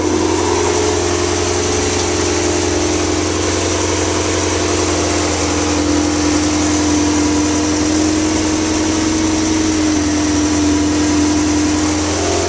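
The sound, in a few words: Ferrari 348 engine running in first gear, wheel spinning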